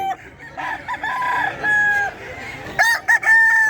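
Roosters crow at a busy Filipino pet market selling gamefowl in Bocaue, with several long, loud cock-a-doodle-doo calls and clucks overlapping one another at close range.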